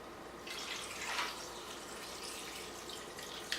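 About four cups of water poured into a pot over chicken and ice for a brine, a soft steady splashing rush that is fairly faint and continuous, with a brief louder gush near the start.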